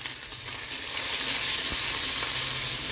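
Ginger garlic paste and turmeric fry in oil in a pan, a close, bright sizzle that swells louder after the first second and stays steady, with a faint stirring scrape.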